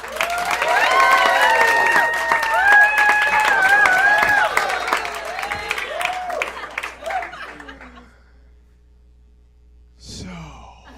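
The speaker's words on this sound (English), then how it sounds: "Give me some applause." A comedy show audience bursts into loud applause mixed with cheers and whoops for several seconds, fading into scattered clapping, then a brief pause before a short renewed burst.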